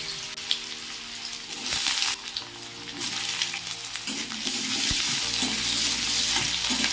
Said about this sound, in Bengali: ওই কড়াইতেই তেল দিয়ে খুব সামান্য পরিমাণে তেল দিলাম, কিন্তু আমি ছোট ছোট টুকরো করে কেটে রাখা আলুগুলোকে দিয়ে দিলাম।